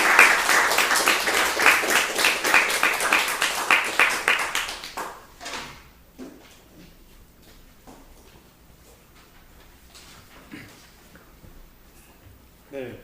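A lecture audience at a reading of an ancient Korean text bursts into loud, dense applause for about five seconds. It then stops, leaving a quiet room with a few scattered claps, small knocks and a voice speaking.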